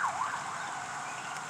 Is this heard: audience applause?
no